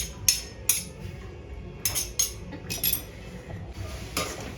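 Grated carrots tipped into a pan for carrot halwa, a series of sharp metallic clinks and scrapes of a spoon against the pan, close and irregular, with quiet pauses between.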